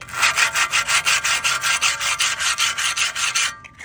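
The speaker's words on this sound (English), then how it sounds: "So what I'm gonna do is I'm gonna use some sandpaper." 120-grit sandpaper rubbed back and forth over rough casting marks on a Honda Ruckus part, a steady close rasping stroke repeated about five times per second for several seconds before stopping.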